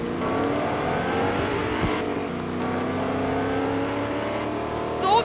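Lamborghini engine in a video game, a steady droning hum with rising and falling revs, close and continuous, ending in a brief louder swell.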